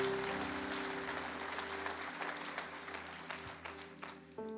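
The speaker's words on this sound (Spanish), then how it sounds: "dale un fuerte aplauso al Señor" A church congregation applauds the Lord at a Spanish-language sermon, a dense wash of clapping over a sustained musical tone that gradually thins into scattered claps near the end.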